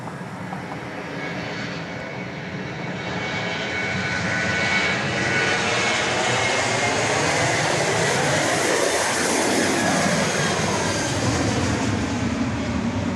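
A Southwest Boeing 737-700 departing Dallas Love Field for Tulsa roars past, its jet engine noise building into a loud, sustained rumble with a sweeping tonal whine, heard from outdoors without talk.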